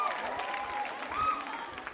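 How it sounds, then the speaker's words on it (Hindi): An audience at a women's club college quiz show applauds, a brief burst of clapping blended with a voice talking over it. "जोरदार तालियां बजाइए आप, जोरदार।"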